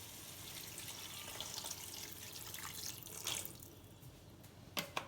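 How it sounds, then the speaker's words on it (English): Water poured into a pot of mutton biryani, a quiet continuous splashing stream that swells and ends with a few brief clinks. "as I'll be putting some water in it."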